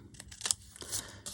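Scissors snipping the edge off a watercolour-stamped paper tag, a few short crisp cuts close by with quiet handling in between.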